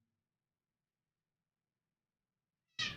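A cat lets out a single loud, close meow near the end, following almost three seconds of silence.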